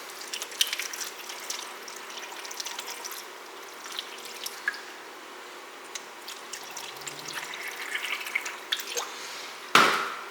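Water runs and drips into a cooking pot as it is filled for a stew, a soft, steady trickle with scattered drips and a louder splash near the end, no voices.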